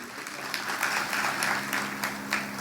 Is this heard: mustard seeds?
no